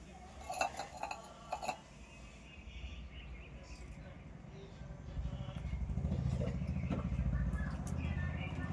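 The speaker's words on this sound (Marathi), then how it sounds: "एवढं घासलं? एवढी भांडी घासले?" A three-year-old child scrubs dishes with soap and water, with clinks of utensils in the first two seconds, then steady splashing and running water underneath an adult's voice.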